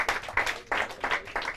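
A small audience claps for contestants in a Portuguese quiz round, a short round of brisk applause with several uneven bursts of clapping, fairly faint and without talk.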